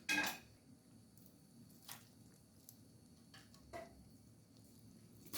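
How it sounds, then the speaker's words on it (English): A knife slicing hot Jamaican chicken ham on a board, heard as a few sparse, faint taps and scrapes spread apart against a quiet room. "I'm going to just slice my ham."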